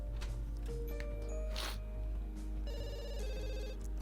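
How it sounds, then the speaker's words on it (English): A bell-like electronic phone ring in The Sims 2 repeats in a pulsing pattern over a low background hum, with short rustles in between. "Who's calling on the phone now?"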